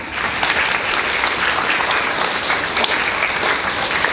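A school audience at a fifth-grade celebration gives a steady round of applause for students, dense, even clapping filling the room without a break for about four seconds.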